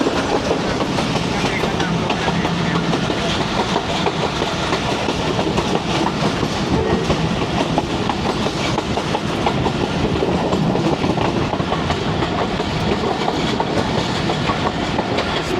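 A train rolls along a slow branch-line track between Wazirabad and Hafizabad, with a continuous loud rumble and rattling wheel clatter heard from on board throughout.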